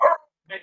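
A dog gives two short barks close up, a loud yap followed by a briefer, higher one after a short pause.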